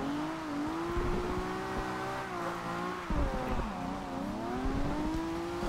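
A tuned Nissan Skyline 2000GTR drifting in the racing game Forza Horizon 2 holds a steady droning engine note. The pitch dips and climbs as the throttle shifts, with tyre noise underneath and no talking.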